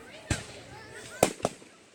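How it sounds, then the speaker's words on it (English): Fireworks bursting at a local Fourth of July show, with three sharp booms: one near the start, then a closer pair about a quarter second apart, each fading into faint crackle. "This fireworks show?"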